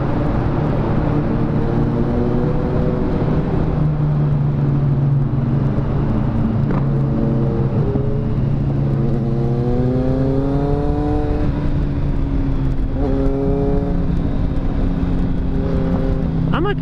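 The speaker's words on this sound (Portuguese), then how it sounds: "mas que tanto caminhão tá descendo aí nessa porra hoje, rapaz." Heavy trucks rumble down a steep mountain road, their engines droning with shifting pitch as they pass near and loud, one after another, with no talk.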